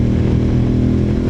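An Aprilia Tuareg motorcycle pulls away under acceleration, its engine giving a steady, loud, close drone with a dense low rumble and no voices over it.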